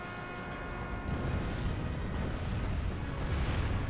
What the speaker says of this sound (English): let's bomb them into oblivion. And let's put them on fire at will mode and just see the fireworks ignite